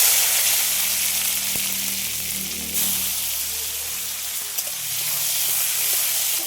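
Chopped tomato sizzling in hot mustard oil with panch phoron in a kadai, a steady close hiss of frying throughout with faint clinks, no voices.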